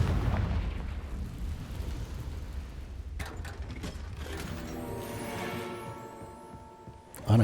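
Confringo fire spell cast in the Hogwarts Legacy video game, a low rumbling blast bed with sharp cracking bursts midway and a ringing, metallic tail, ending in a sudden loud thump.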